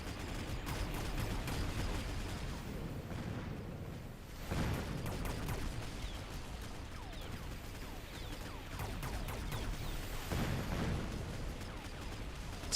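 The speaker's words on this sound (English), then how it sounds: "they're getting hit by artillery" Artillery fire hits a group of Mustang units in the strategy game Mechabellum, a continuous dense rumble of overlapping impacts and blasts that swells into heavier bursts at a few points.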